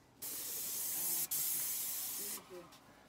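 A paint sprayer hisses in two sustained bursts, with a short break between them, while a crew sprays a house exterior in the afternoon; the sound is close and steady, followed by a faint voice.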